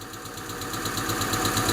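An idling engine with a faulty lifter ticks rapidly and evenly over a steady mechanical drone, the regular clatter repeating close and clear with no talk.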